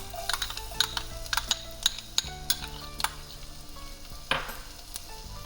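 Minced garlic frying in butter in a pan, a soft sizzle broken by repeated sharp clicks and scrapes of a utensil stirring against the pan.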